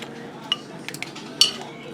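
Spoon scooping salsa out of a glass jar in a home kitchen, a few close clinks and scrapes against the jar within a short span, with faint background noise.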